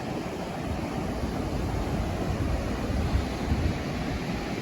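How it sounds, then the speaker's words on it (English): Large waves breaking on the beach at Newgale in Pembrokeshire, a continuous low roaring wash with wind buffeting the microphone, no voices present. "look at those waves, they're massive over there."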